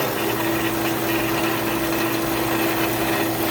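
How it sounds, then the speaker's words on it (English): A steady, high-pitched drill whines continuously at close range, grinding without pause halfway into a rubber tractor-pulling tire lubricated with dish soap. "I'm only drilling halfway through the tire"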